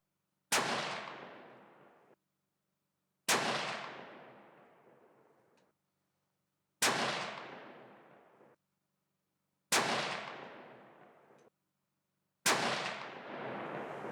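Five loud, evenly spaced shots from a 6mm rifle with a muzzle brake firing Sierra 105gr MatchKing loads over 8208 XBR powder, each a sharp crack with a long reverberant tail, separated by quiet gaps.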